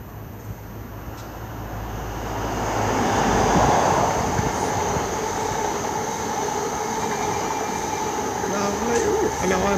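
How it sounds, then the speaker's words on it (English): An LNER HST train passing through Finsbury Park station, a loud continuous rumble and rush of wheels on rails that swells as it draws near and stays close, with a faint high whine above. "There's two. One is a LNER, HST class 91, I think. 43, here it comes."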